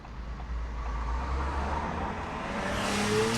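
A car pulls out at a road junction near the Mill Hill test centre in the UK: a steady low engine rumble and road noise build slightly toward the end as it moves off, with no talking.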